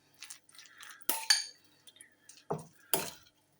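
A utensil mixes wild garlic flower fritter batter in a bowl, giving a few scattered clinks and scrapes against the bowl in short bursts, close and fairly quiet.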